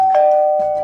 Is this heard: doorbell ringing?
yes